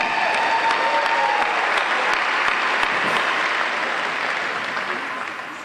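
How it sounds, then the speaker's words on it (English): A large audience applauds at a college athletic hall of fame ceremony, a dense, steady wash of clapping that stays full before slowly fading toward the end. "please give yourselves a round of applause"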